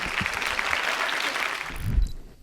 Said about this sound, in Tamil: ஒரு அரங்கு நிறைந்த கைத்தட்டலோடு வாங்க